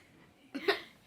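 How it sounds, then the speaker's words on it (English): A child's single hiccup, a short sharp catch of breath with a quick voiced squeak, sounding close and fairly quiet against a soft, steady background hush. "How do I get rid of hiccups?"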